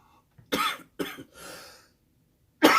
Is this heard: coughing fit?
yes